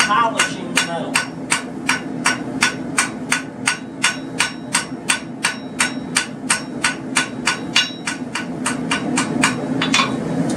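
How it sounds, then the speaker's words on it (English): Steady, evenly spaced hammer blows on metal at black heat during blacksmithing, loud and close, about two or three strikes per second with a ringing edge. "you'll actually see me hammered at a black heat"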